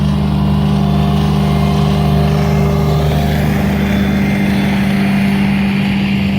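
A tracked drainage machine's engine runs steadily at a drainage job site, a loud, continuous low rumble with a constant drone and no pauses.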